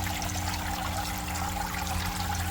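Steady broadband rush of water churning through a hygger hang-on-back aquarium filter, a continuous even flow with a low hum underneath, close and moderately loud with no pauses.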